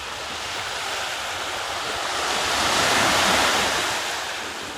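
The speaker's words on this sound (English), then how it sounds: "But what a beautiful beach here." Surf washing onto a beach near a resort, a steady broadband roar of breaking waves that swells slightly louder in the middle before easing, with some wind, and no voices.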